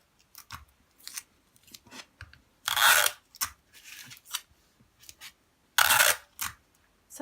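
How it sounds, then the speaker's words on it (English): Sticky tape pulled and torn off a roll while securing fabric to a table, two loud bright rips standing out among smaller crinkles and handling noises, close by and with no talking. "Sorry about that noise of the sticky tape."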